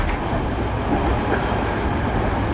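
A passenger train rolls along rails through Scandinavian countryside in Sweden and Norway, recorded from inside: a loud, continuous low rumble and rattle with no distinct beats.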